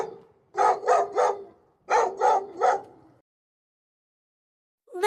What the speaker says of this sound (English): The dog says woof.